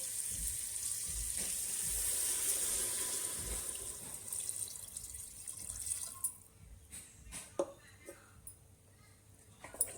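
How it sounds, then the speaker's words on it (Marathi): Water pours from a vessel into mutton sizzling in oil in a pot, a steady gush that tapers off into scattered splashes and drips. "मटण चांगल्या प्रकारे तेलावर मिक्स करून झालेलं आहे यात आता आपण पाणी घालून घेऊ"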